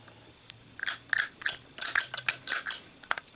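Zippo lighter with emblems on its case and a loose insert, its lid flicked open and shut in a quick series of muted metallic clicks and snaps, close and with no talk.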